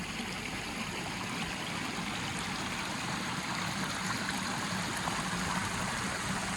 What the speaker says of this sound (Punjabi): ਆਪਾਂ ਨੂੰ ਇਹ ਝਰਨਾ ਦਿਖ ਗਿਆ